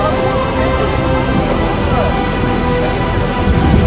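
Heavy spray and falling water from Niagara Falls drench a tour boat, a dense, steady roar like a downpour that fills the whole clip with no letup.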